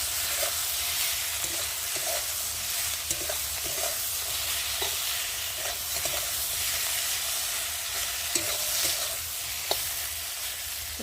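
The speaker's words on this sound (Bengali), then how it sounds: "এবার দিয়ে ভালো করে নেড়ে দেবো।" Spices with cumin paste, ginger paste and slit green chillies fry in a pan for a parshe fish curry with potato and brinjal. A steady hiss carries under repeated soft scraping strokes of a spatula, with no talk.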